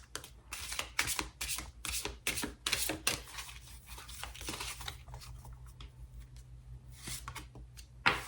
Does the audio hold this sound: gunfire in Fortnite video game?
no